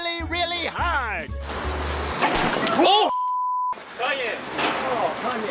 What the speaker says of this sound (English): now Kanye West smashes his head into a street sign really, really hard